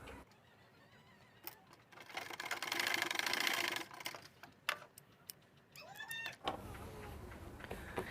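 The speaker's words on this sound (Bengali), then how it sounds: "এখন এখান থেকে এইখানে আমরা 1/4 ইঞ্চি পরিমাণে একটা সেলাই করে ব্যাক স্টিচ দেব।" A sewing machine runs in a short whirring burst of about two seconds as it back-stitches a quarter-inch seam on a pants side pocket, set among scattered quieter handling clicks and rustles.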